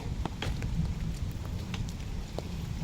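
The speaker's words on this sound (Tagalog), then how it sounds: "Talaga palang umuulan paglabas ko bahay." Outdoor rain falls steadily as a soft, even hiss with faint scattered drip ticks. It is continuous and fairly quiet, with no voices.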